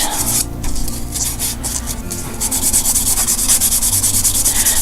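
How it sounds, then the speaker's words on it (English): A nail buffer with 100 and 180 grit sides rubs back and forth across a nail, giving a continuous close, raspy sanding sound that keeps an even rhythm throughout without talk. "Now we're just buffing it to smooth it out."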